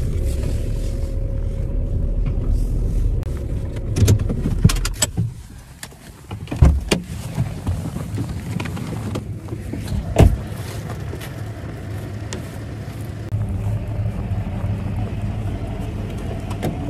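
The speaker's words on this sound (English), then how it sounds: "I just have to move my mom's car out of the way." A car being started and moved out of the way: a steady low engine rumble runs throughout, with a few clunks and knocks along the way and no talk.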